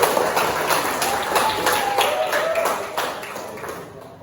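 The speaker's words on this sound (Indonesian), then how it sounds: "Terima kasih Emir ya, kasih tepuk dulu." Students in a classroom clap for a classmate, a dense patter of many hands that holds steady for about four seconds before tapering off.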